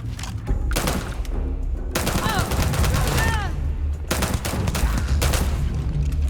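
Sci-fi gunfire in Starfield, set in Neon City: dense, continuous automatic shooting, loud and close, with voices under the barrage.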